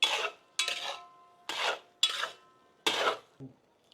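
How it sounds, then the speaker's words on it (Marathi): Spoon stirring fried eggs through anda biryani gravy in a pot, with five distinct scraping, rasping strokes a little under a second apart, close and fairly loud, then a soft knock at the end; no talking. "ग्रेव्हीमध्ये अंडे व्यवस्थित आपण मिक्स करून घेऊ"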